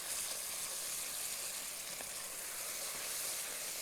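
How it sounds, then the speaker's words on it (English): Dark Mardi Gras gumbo roux in a pot gives off a steady, even sizzle and hiss for a few seconds, with no voices and no distinct stirring strokes standing out. "A quick stir."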